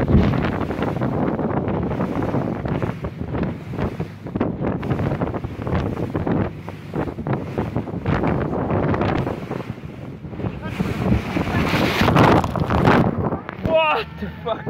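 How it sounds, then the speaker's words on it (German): Inflatable boat crossing waves off the Azores, heavy wind buffeting the microphone, water slapping and surging loudly, with voices shouting over it near the end. "Wir sind mit dem Schlauchboot dann zurückgefahren"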